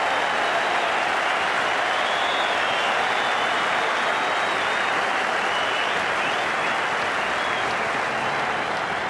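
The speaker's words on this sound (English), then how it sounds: "Listen to the cheer from his home crowd here" Home crowd at an Ashes Test cricket match cheering for Hayden, a loud, steady roar of applause and cheering that holds throughout without break.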